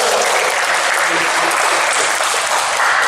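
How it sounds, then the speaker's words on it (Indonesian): Audience applause at an Indonesian book discussion on Aceh highland ornamental art, a dense, steady wash of clapping that holds loud and even throughout. "Beri tepuk tangan yang meriah."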